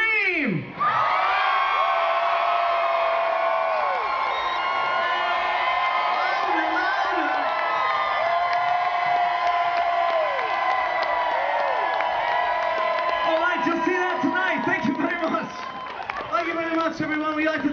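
A large concert crowd at Cal Expo screams, whoops and cheers loudly and steadily, with scattered clapping mixed in, sustained for many seconds before easing slightly near the end.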